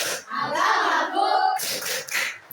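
A classroom of young schoolchildren chants in unison during a Christian religion lesson, punctuating the words with a few quick group hand claps, loud and close.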